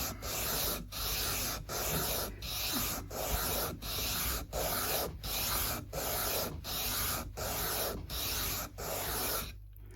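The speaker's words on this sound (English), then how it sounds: "we can take quite a lot off with our heavy duty sandpaper here" Heavy duty sandpaper rubbed back and forth on an Alvarez acoustic guitar, a loud, close, coarse rasp in an even rhythm of about thirteen strokes, each separated by a brief pause.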